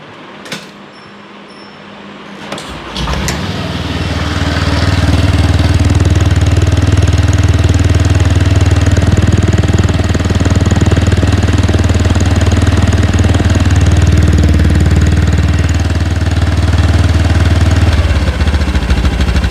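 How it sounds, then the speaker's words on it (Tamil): A scooter engine cranks briefly, then catches and runs steadily with a loud, throaty exhaust rumble that holds until the end. "வண்டியை இப்போ ஸ்டார்ட் பண்ணுறேன்"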